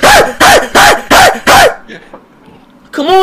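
A person imitates a dog, giving five loud, evenly spaced barks up close, followed by a short quiet gap and then the start of shouting voices.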